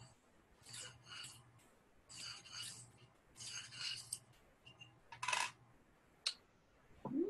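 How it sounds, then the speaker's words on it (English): A knife scrapes oboe reed cane in small, quick bursts of dry, thin scraping, close and fairly quiet, separated by short pauses with a few faint clicks. "You have to do it in smaller scrapes."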